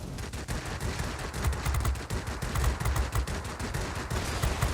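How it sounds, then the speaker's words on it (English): Twin American 23mm cannons on an F5F fighter fire in a World of Warplanes air battle, a dense, rapid, continuous rattle of bursts at a steady loud level with no pauses. "Two 23mm cannons, and they're American 23s, so they're not very strong."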